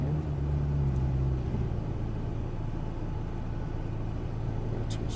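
A McLaren MP4-12C drives on a race track, its engine a steady low rumble throughout, with a brief deeper surge near the start and faint clicks near the end.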